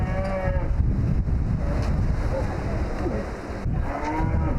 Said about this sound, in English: so hello cows